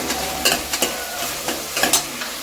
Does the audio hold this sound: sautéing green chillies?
yes